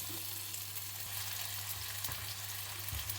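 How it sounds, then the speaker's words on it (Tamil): Steady sizzling and crackling of papad frying in hot oil, continuous and close, with no talking. "மிதமான தீயில் பொரிய பொரிஞ்சதும் எடுத்துருங்க"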